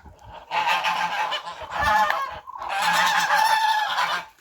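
Loud, harsh honking from ducks close by, a dense clamor that breaks briefly and resumes, several birds calling over one another.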